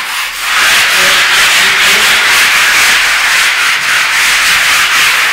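Coarse 60 or 80 grit sandpaper rubbed over a plastered cement wall, a loud continuous scratchy rasp in steady back-and-forth strokes, close up and without talk.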